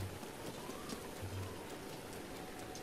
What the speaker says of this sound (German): Natürlich jetzt strömender Regen, wie soll es auch anders sein?